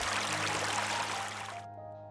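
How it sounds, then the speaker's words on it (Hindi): River water flows and trickles in a continuous, fairly soft wash that runs steadily and then cuts off abruptly near the end. "नदियों में पानी के बहने की आवाज"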